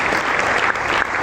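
A church congregation applauds loudly and steadily, a dense continuous clapping that fills the room without a break.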